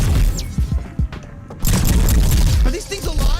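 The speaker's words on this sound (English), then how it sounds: "let's use the glove shot" A glove shot attack in a video game: loud booming impacts and crackling, shattering bursts layered over dense game noise, with a short gap of near silence between blasts and some voice mixed in.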